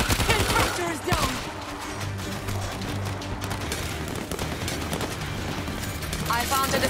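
Machine-gun fire in the World War Z Aftermath game, Moscow level, with dense rapid bursts throughout mixed with other combat noise and shouted voices.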